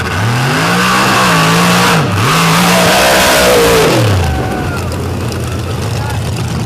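A nitrous-fed 959 cubic inch Pat Musi drag racing engine launches and screams down the strip, a very loud, close roar that rises, dips briefly, climbs again, then falls away after about four seconds.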